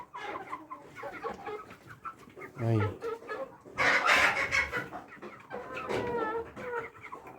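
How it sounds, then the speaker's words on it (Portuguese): Ornamental and free-range chickens cluck and call in a coop, with a rooster's crow rising midway, while someone speaks intermittently over the birds. "E aqui tem outro frango."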